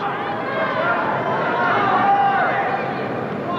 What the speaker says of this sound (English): The crowd really coming alive here.